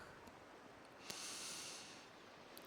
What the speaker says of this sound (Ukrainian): Отже, зробимо м'який вдих